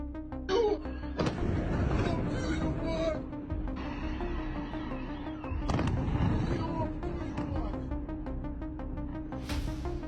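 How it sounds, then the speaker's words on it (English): Bombing in Kyiv, Ukraine: a series of heavy blasts and booming explosions with rumbling aftermath, a few sharp bursts spread over several seconds, with some background voices. "here's a little clip of Ukraine, Kiev, being bombed"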